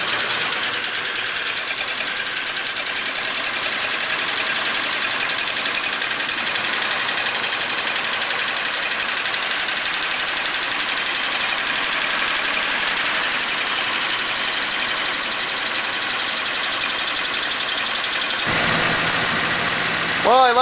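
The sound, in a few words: 1941 Pontiac engine idling while warming up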